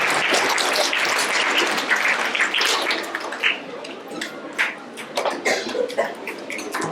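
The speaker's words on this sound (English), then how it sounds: "Round of applause for row 1." A classroom of third-graders claps for a row of classmates at a school awards event, a dense burst of applause that thins into scattered, uneven claps toward the end, with voices mixed in.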